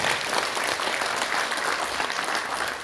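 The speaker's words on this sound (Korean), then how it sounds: "다시 한번 여러분들 큰 박수 부탁드립니다." A hall audience at a political party launch event claps in a dense, steady burst of applause, loud and close throughout.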